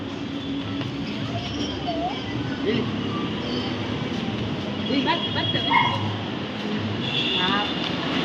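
Dogs yip and whimper intermittently in the distance at a dog cafe in Mangaluru while people talk over a constant outdoor background rumble.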